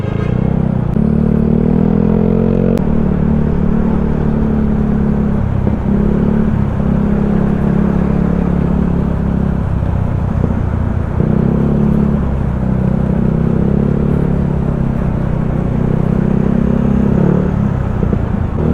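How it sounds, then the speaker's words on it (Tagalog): Dense road traffic crawling past near the new Balagtas Rotonda flyover in Batangas City, heard while riding a Yamaha Mio Sporty scooter: a steady, loud low rumble of engines and idling vehicles with occasional revving, continuous throughout with no talking. "talagang traffic pa rin ang kapal pa rin ang traffic ng mga nagmumula dito"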